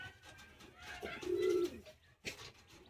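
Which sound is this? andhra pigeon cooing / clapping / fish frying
andhra pigeon cooing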